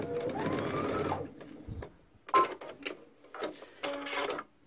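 A sewing machine stitches fabric for a backpack, tacking within a seam allowance: a loud whirring run at the start, then short bursts of stitching with pauses, close by.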